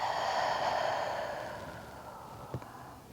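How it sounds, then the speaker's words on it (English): A long, audible exhale during a yoga and pilates warm-up, a soft airy breath that fades over a few seconds and ends with a short nasal sniff, close and quiet. "take a few deep inhales through the nose and cleansing long breaths out the mouth"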